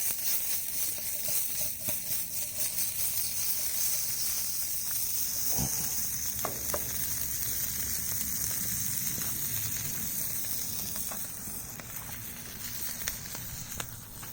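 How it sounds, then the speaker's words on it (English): Sausage links frying on a titanium Überleben bushcraft stove over a small flame, a steady close sizzle and crackle with a few sharper pops, running continuously without talk. "Cooking some sausage on the Überleben bushcraft stove"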